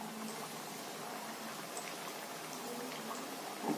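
Satle, fried dough snacks, sizzle steadily in hot oil over a lowered gas flame, a close, continuous crackling hiss with no voices over it.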